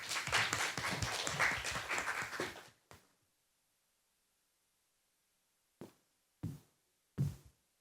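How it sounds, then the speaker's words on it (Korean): An audience at an energy security conference session claps to welcome a speaker: a short burst of applause lasting under three seconds, followed by quiet and a few isolated knocks. "박수로 맞이해 주시기 바랍니다"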